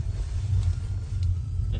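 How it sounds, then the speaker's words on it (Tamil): A car engine rumbles low and steady as the vehicle comes to a stop, close and loud, with a faint click near the end. "கார் நிற்குது"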